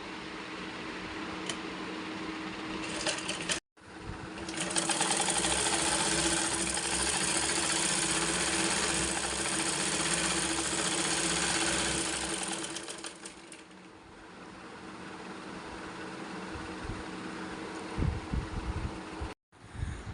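A sewing machine stitches a pillow cover, made from an old nightie, in a steady close whir that runs almost unbroken, with short stops at the start and end.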